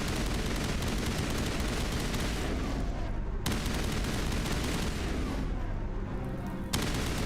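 Sustained gunfire and booming impacts in the video game Mass Effect: Legendary Edition, a loud dense wash of shots with two sharp bursts standing out, no talking.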